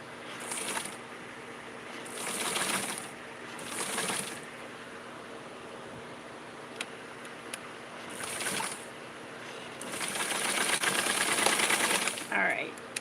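Home sewing machine stitching fabric for a Simplicity 4422 pattern, heard in several short bursts of fast whirring with quiet stretches between, moderately close over a faint steady hum.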